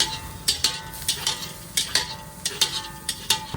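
A spoon stirs mung bean pulao with masala and fresh coriander in a pan, giving repeated close scraping clinks in an uneven rhythm of roughly two or three strokes per second, with no talking.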